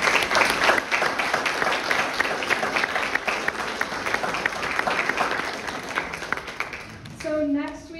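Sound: audience applause after a talk

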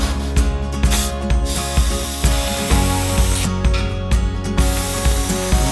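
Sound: balloons being inflated with gas in a garage

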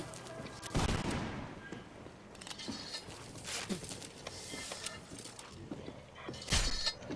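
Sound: gunfire in the Roblox video game Guts & Blackpowder

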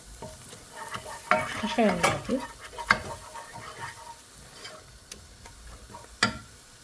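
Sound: spices frying and being stirred in a pan

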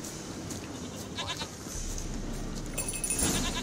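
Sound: goat bleating in video game The Witcher 3

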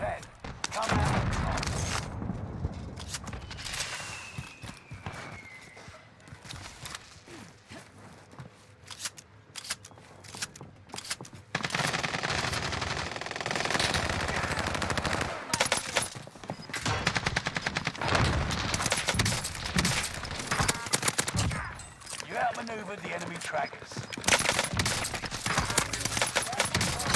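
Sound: gunfire in the video game Call of Duty Warzone

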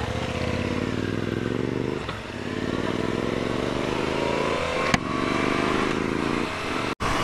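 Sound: Suzuki V-Strom 650 XT motorcycle riding

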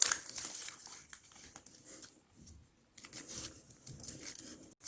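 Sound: folding origami paper

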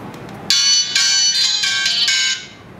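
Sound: Philips E130 phone ringtone played on loudspeaker

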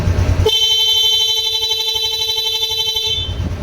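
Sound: motorcycle horn honking

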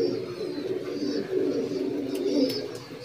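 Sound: Arshad line pigeon chicks cooing

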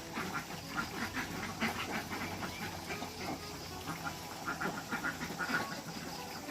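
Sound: ducks quacking

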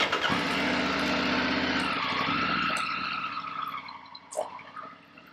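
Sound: Triumph Tiger 900 GT Pro motorcycle engine, throttle twisted

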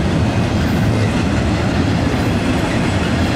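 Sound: Norfolk Southern intermodal freight train passing

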